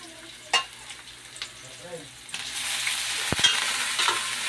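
Humba fries in a pan while being stirred, a steady sizzle that builds and thickens partway through, broken by a few clanks of the utensil against the pan, heard up close.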